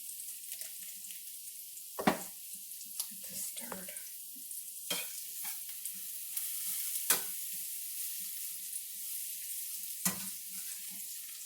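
Soft, steady sizzling of onion softening in a pan while cooking Swiss chard, with occasional stirring scrapes and clicks, close and fairly quiet.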